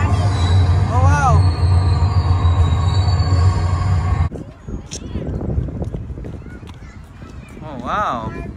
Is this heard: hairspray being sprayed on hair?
no